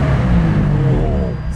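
A McLaren hybrid supercar idles close by with a loud, steady low engine rumble and a faint harmonic hum that eases slightly toward the end.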